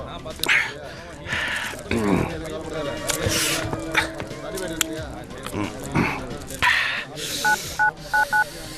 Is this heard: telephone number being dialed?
yes